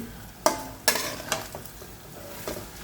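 Rice and vegetables being stirred with sugar in a frying pan: a few distinct scraping strokes against the pan over a soft sizzle, with no voices.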